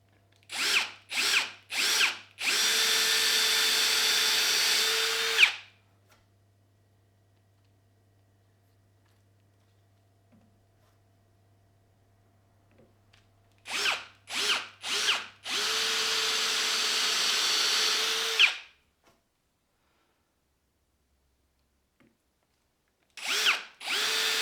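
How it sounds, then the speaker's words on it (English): Power drill boring a screw hole in wood during a bench build: a few short trigger bursts followed by a sustained whine lasting several seconds, repeated twice more with quiet pauses between, close and loud. "Drill our hole for our screw to go in."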